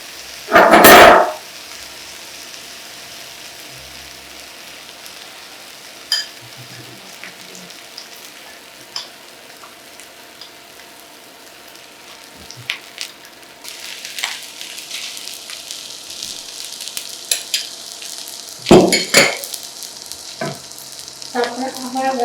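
Chicken pieces going into a hot pan for a saffron-and-milk layered dish, with a loud burst of sizzling at the start, then steady quieter frying and occasional stirring clatter, swelling into louder hissing near the end.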